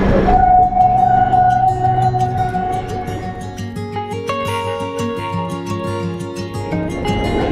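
A train passes close by at a stop near Agra, a loud steady rumble of wheels and carriages with tonal squeals and horn-like whines, continuous throughout with no talking.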